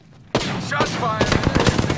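Gunfire in the shooter game Apex Legends, a sudden loud burst after a quiet moment followed by rapid repeated shots, close and sharp, with some game voice mixed in.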